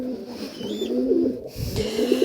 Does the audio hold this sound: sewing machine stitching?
no